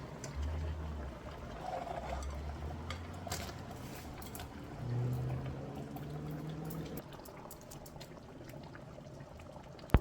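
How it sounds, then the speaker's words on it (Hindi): Paneer peanut masala gravy simmering in a pan, a soft, steady bubbling and popping close by with faint liquid sounds, quiet throughout and no voices. "पनीर डालने के बाद हम इसे कम से कम 20 मिनट तक खौलने देंगे।"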